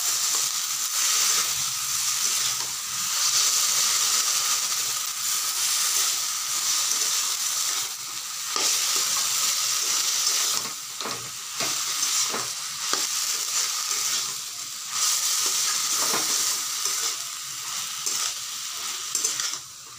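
Prawns with taro and turmeric frying in a pan give off a loud, steady sizzle, with scraping and rustling as they are stirred and tossed throughout, close up and without voices.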